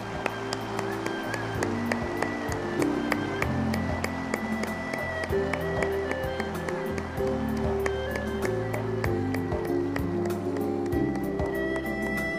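Audience at the Seoul Conference on Cyberspace 2013 opening ceremony applauding the President of the Republic of Korea, a steady sustained round of clapping over background music, moderately loud and continuous.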